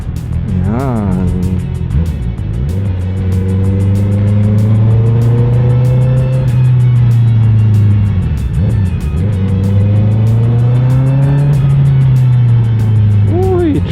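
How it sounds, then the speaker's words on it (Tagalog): Cars and jeeps move through road traffic near a market, with steady engine drone and rising and falling revs of passing vehicles, loud and close over several seconds. "Traffic."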